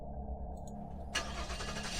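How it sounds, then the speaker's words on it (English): A car engine cranks and starts just outside a house in a Gameboy-style text adventure game, a quiet low hum before a sudden brighter engine burst that keeps running steadily to the end. "Roger hears a car start up right outside."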